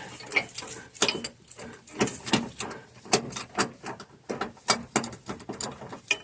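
A socket wrench ratchets a capture nut on a rear bumpstop bracket, a string of quick clicking pulls in uneven bursts, close and moderately loud with no talking.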